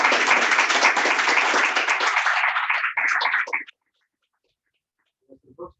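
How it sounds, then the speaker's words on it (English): An audience at a hybrid poetry reading claps for the poets, steady applause for about three seconds that thins to a few scattered claps and stops, followed by silence and a brief faint voice. "Let's give the poets another round of applause for the wonderful reading tonight."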